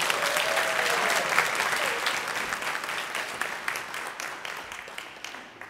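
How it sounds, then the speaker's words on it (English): A crowd applauds an award nominee honored for serving meals to homebound elderly and disabled residents at a mayor's neighborhood awards ceremony, with full clapping that slowly thins and fades toward the end. "Round of applause to Amy."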